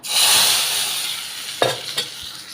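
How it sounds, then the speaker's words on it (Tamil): Hot tempering poured into boiling Mysore rasam with the stove just switched off, giving a bright, sustained sizzle and hiss that fades, followed by a few small clinks and splashes, no talk. "இப்போ தாளித்ததை வந்து ஊற்றிக்கலாம்"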